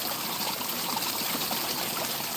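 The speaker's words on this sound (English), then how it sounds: "water hit that log a little differently to make a different splash." Pond water splashes steadily onto a log in a garden pond, a continuous close, even rush of falling water with no voices.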